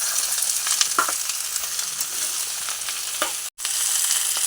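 Ivy gourd (dondakaya) pieces frying in a generous amount of oil, a bright hissing sizzle running throughout with a few faint stirring scrapes and a brief dropout near the end.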